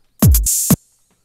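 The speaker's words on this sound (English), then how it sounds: "we want to insert the open hats" A single 808 open hi-hat, a bright hissing splash ringing for about half a second over a low thump at its start, then silence.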